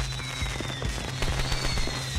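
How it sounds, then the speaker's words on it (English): Celebratory fireworks going off in the game Shooty Skies Overdrive, a steady run of crackling pops and bursts over a low musical hum and a high tone, evenly loud throughout. "Yay, fireworks."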